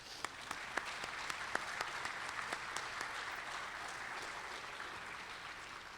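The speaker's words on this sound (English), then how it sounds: "Please give all of our sponsors a round of applause." Applause from an audience at a NASA Glenn evening event held at a history museum, a faint, steady wash of clapping heard from a distance, fading gradually across six seconds.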